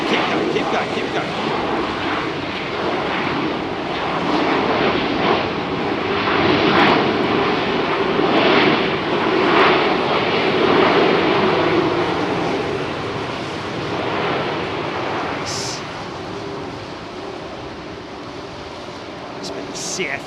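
Jet airliners powered by CFM engines roar steadily at London Heathrow Airport, a loud sustained engine rumble and whine with a broadband rush building and easing over the whole stretch, heard without talk.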